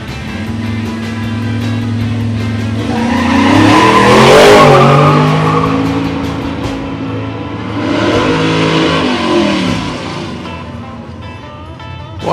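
A 1967 Camaro and a Duster drag race at a dragstrip reunion, with loud engines roaring and revving up through the run, swelling to a peak as the cars pass and then fading before a second surge.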